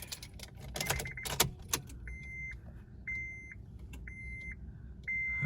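Car keys jangle and clatter for a couple of seconds in an Acura RSX Type S with a K24 engine swap, followed by a repeating series of electronic chimes from the car.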